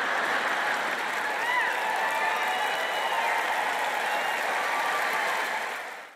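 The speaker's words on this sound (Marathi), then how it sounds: "टाळ्या वाजवू शकता." A church congregation at a Joyce Meyer sermon applauds in a dense, steady wash of clapping that holds evenly for several seconds, then fades out at the end.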